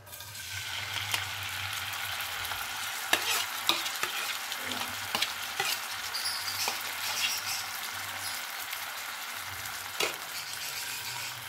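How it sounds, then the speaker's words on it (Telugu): Washed dried prawns frying in oil for an Andhra-style gongura curry, a continuous soft sizzle broken by occasional scraping stirs of the pan, fairly quiet and with no talking. "దీంట్లో మనం ముందు రొయ్యలు వేయించుకోవాలి."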